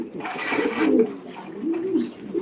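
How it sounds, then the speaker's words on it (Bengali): White house pigeons at a pigeon farm in Senbag, Noakhali, give several soft, low, throaty coos close by in a short burst. "এটা হচ্ছে যে হাউস পিজন সাদা হাউস পিজন"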